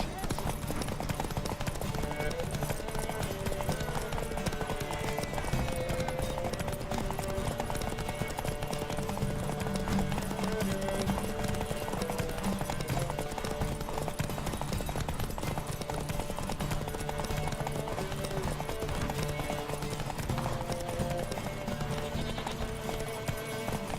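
Roach the horse gallops in The Witcher 3, rhythmic clip-clop hoofbeats running throughout under game music and ambience, with a whinny and game voices speaking.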